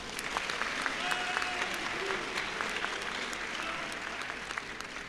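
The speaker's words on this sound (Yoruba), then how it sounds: "Ẹ tiẹ̀ bá mi pàtẹ́wọ́ fọ́ba òkè." An audience claps for a king at a gathering, a dense, steady round of applause lasting throughout at moderate distance, with voices mixed underneath.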